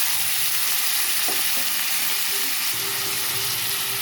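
Onion, green chili and tomato frying in hot oil give a steady, loud broadband sizzle throughout, with a few faint clinks and scrapes from the pan, and no voices.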